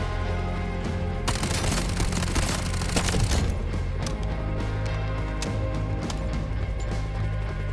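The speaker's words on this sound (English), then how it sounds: "I heard some shots" Rapid bursts of gunfire in the shooter game Delta Force, a dense volley of cracking shots with sharp isolated reports afterwards over steady background ambience.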